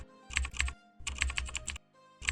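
Computer keyboard keys tapped in quick bursts while typing a chart title in Excel, crisp close clicks in short runs separated by brief pauses, with no voice.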